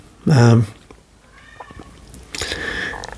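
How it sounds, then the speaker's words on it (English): Cats yowl and cry indoors, one loud drawn-out wail up front followed by fainter mewing cries, with a voice talking over the later part. "Oh, some cat crying. 4 cats, terrible."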